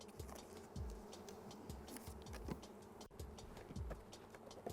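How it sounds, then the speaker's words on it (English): A dense, close swarm of honey bees buzzes continuously around a hive being installed, with individual insects droning past in short sweeps over a steady hum. "Now the bees here will find their way in, they'll cluster around the queen."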